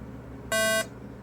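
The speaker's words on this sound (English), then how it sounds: "you heard that beep? Well, that's our network stuff initializing" One short, clear electronic beep from a computer as Windows NT 4 networking starts up, a steady tone lasting a fraction of a second over a low background hum.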